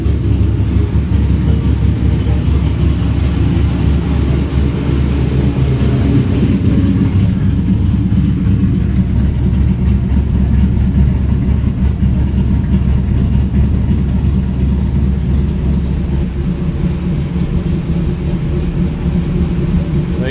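A 2002 Pontiac WS6 V8 idling after a cold start, a steady deep low rumble that holds continuously at close range, with a slight shift in tone partway through as it runs through the mufflers.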